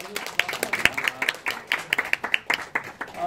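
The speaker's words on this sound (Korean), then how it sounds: "다시 한번 큰 박수로 감사드립니다" Audience at a teachers' lecture event clapping in thanks, a loose patter of separate hand claps from a modest group, fairly close and uneven in rhythm rather than a dense roar.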